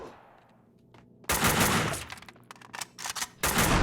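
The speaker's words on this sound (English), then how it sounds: "Listen, this is how you use a sniper rifle." Loud sniper rifle shots fired in Max Payne 2, following a quiet stretch, then several sharp close blasts in quick irregular succession with a big final report.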